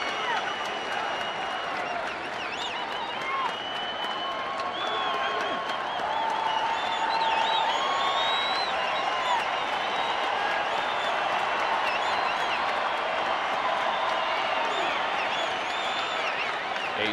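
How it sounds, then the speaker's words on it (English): A sold-out baseball stadium crowd cheers for the team on defense, a broad sustained roar of voices and clapping that holds steady throughout, with faint voices audible within it. "A sold-out crowd making some noise on behalf of the team on defense today"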